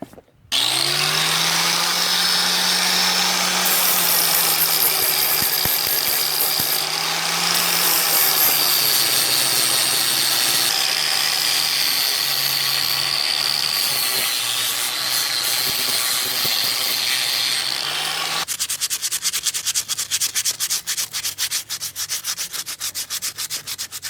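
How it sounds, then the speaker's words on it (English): Flap disc on an angle grinder scouring rust from a 1937 Willys flathead engine that sat outdoors for years, a loud close continuous whine and rasp whose pitch dips as the disc bears down, ending in a rougher scraping stretch. "I'm going to clean this whole area up with a flap disc now, so there won't be all that rust in the way."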